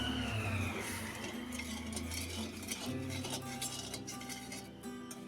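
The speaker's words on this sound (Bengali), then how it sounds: "এবার কড়াইতে এক কাপ পরিমাণ জল দিয়ে দিয়ে দেব চিনি নেড়ে চেড়ে নেব" A spoon stirs sugar and water in a kadai while an amla pickle is being made, giving soft scraping and light metallic clinks over a steady background hum, with no talking.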